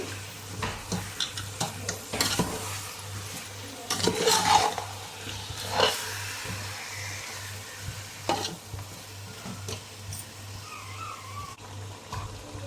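A spoon scrapes and stirs a mutton and rice mixture for Kadapa-style chitti muthyalu mutton biryani in a pot, giving repeated close scraping strokes over a faint sizzle and low hum, with no voices.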